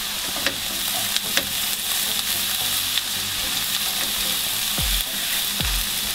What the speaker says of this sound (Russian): И хорошенечко перемешиваю.